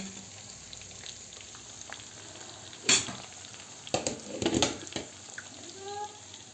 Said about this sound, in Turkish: Tavuk şöyle kızarıyor.